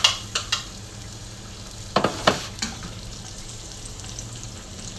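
Garlic and onion sautéing in a pan for pinakbet, a soft steady sizzle broken by several sharp utensil knocks and scrapes in small clusters, close and moderately loud.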